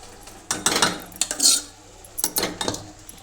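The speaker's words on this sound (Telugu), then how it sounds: "ఇప్పుడు గోంగూర వేస్తున్నా దోస్తులు" Gongura leaves are added to mutton in a pot, a spoon clanking and scraping against the metal vessel in several uneven bursts of clinks and stirring.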